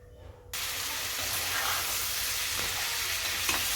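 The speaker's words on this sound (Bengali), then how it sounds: "আমি আগে কিছুক্ষণ মাংসটাকে নাড়াচড়া করে নিলাম" Meat sizzles loudly as it fries in a pan while being stirred. After a quiet opening, a steady, close hiss of frying begins and continues unbroken, with faint scrapes of stirring beneath it.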